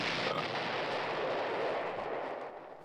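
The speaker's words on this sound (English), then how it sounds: "The flash bang knocked out all the captors instantly." A flash bang grenade detonates in the video game Psycho-Pass Mandatory Happiness, a loud, broad roaring blast that holds steady for about two seconds and then fades away, with no voices.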